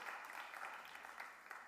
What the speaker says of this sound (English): a round of applause for volunteer number 2